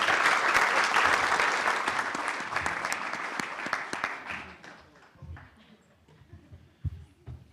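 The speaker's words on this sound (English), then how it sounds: "Let's give our panelists a round of applause" A crowd applauds loudly for conference panelists, steady clapping that gradually thins and fades toward the end, with a few scattered claps lingering.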